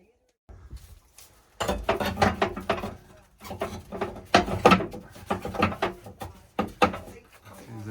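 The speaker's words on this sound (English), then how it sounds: "These are the fire bricks going back in." Heavy fire bricks shuffled and knocked back into place inside a narrowboat's multi-fuel stove, giving a run of close, irregular scraping clunks and taps with short pauses between.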